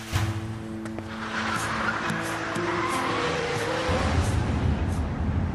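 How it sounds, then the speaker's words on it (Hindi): A car is driven fast, its engine roaring loud and close with tires squealing and skidding, the sound swelling and shifting pitch as it speeds along, with no speech over it. "बाबा जान, बहुत तेज गाड़ी चला रहे हैं आप, आहिस्ता करें।"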